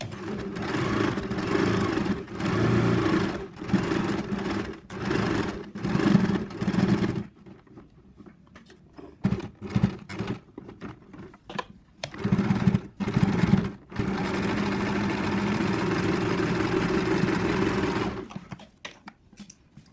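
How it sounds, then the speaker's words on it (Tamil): A sewing machine stitches along a fabric edge while making hand (sleeve) pieces, running in steady bursts with brief pauses between seams. "இந்த ஓரத்துக்கு ஒரு தையல் இன்னொரு தையல் அடிச்சிடுவோம்."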